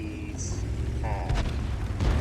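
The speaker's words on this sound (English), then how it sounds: "So I'm here, and you'll see me blind firing down" Tank cannon in World of Tanks fired blind down past a building, a couple of heavy booming shots around the middle and end of the stretch, rumbling over a low engine drone with faint game tones.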